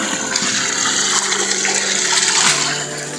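Water pours steadily onto plants, a loud continuous rushing splash close up that runs without a break and eases slightly at the end, with no voices.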